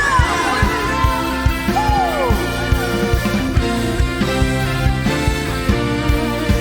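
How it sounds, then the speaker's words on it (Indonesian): A church congregation at a Sunday worship service cheers and shouts hallelujah over steady music, with loud bursts of yelling and whoops rising repeatedly through the crowd. "Sorakan haleluya."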